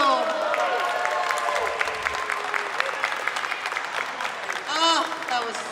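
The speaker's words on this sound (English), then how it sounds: "give one great big round of applause for Flamenco Rosario" Outdoor audience applauding flamenco dancers, a steady wash of clapping with scattered cheers and a few voices over it, holding loud throughout.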